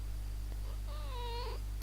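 A pet cat gives a single drawn-out meow, close and clear in a quiet room with a low steady hum underneath.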